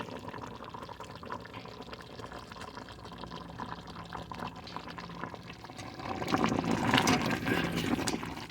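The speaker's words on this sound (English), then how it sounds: "And we still have about 8 minutes of boiling at this low boil." Cranberry sauce simmers at a low boil in a pan on the stove, a steady soft bubbling and popping that swells louder toward the end.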